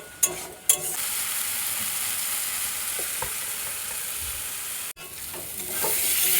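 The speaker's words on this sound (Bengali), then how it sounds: "এবারে ভালো করে কষিয়ে নেব।" Spices with Kashmiri chili powder sautéing in a pan give a steady close sizzle, with light stirring scrapes and a couple of brief louder clatters near the start.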